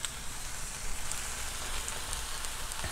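Sliced yellow squash for a casserole cooks down in a pan with a steady, soft sizzle and crackle, continuous and close, with no voices.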